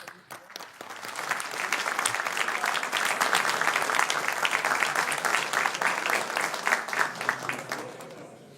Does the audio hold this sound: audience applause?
yes